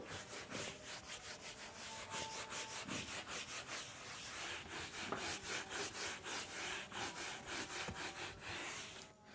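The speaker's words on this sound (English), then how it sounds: "Let me rub the board." A chalkboard is wiped clean with quick, rhythmic back-and-forth rubbing strokes, steady and fairly faint, with no talking.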